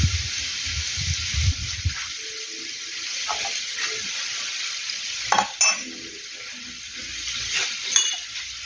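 Pork sizzles and spatters in a pan over a wood-fired stove, a steady broadband frying hiss with scattered crackles and a few louder pops, close and continuous, with some low stirring scrapes near the start.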